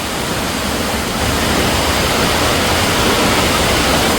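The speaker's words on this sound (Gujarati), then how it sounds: "ધોધમાર વરસાદ ચાલુ થઈ ગયો" A heavy downpour of rain pours down steadily in a continuous dense hiss and roar, loud and close, with no voices, during a family memorial meal gathering.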